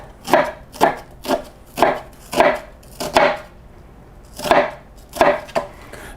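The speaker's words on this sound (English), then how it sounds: "I put that down on its side and just kind of slice through it." A knife slices through a halved onion on a cutting board while making lasagna, in about nine crisp, evenly paced chops close by, followed by a brief pause and then a few more cuts.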